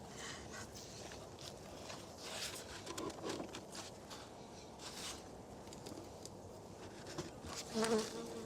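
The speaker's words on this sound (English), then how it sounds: "Lots of bees." A swarm of honeybees buzzes steadily close by from an opened hive, a dense droning hum with occasional louder passes.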